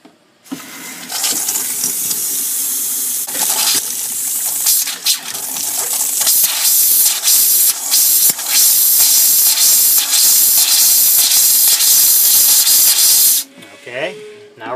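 Hot-water side of a Jayco travel trailer faucet blasts and sputters air and water as lines are drained for winterizing, a loud, close, surging spray lasting over twelve seconds with uneven pulses before cutting off, followed by faint handling noise.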